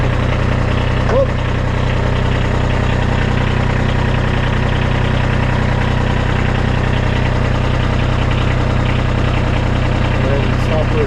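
A Kubota B2301 compact tractor, in the middle of having a snow blower attached, idles loud and close, its low, even engine rumble droning steadily from start to finish.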